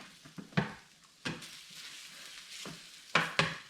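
French toast fries with a soft sizzle in a pan, broken by a few sharp clicks and scrapes of a utensil against the pan.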